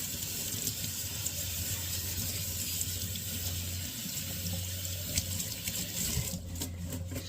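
Fresh cilantro rinsed under a running kitchen tap, a steady close hiss of water splashing into a sink that holds for the full stretch, with a few brief clatters and splashes near the end.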